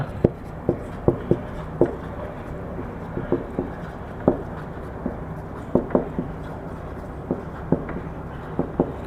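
Pen or chalk tapping and scratching out maths working during a Bengali-language class lesson on perimeter of a rectangular copper wire: sparse, irregular clicks and short strokes, fairly close, against a quiet room background with no talking.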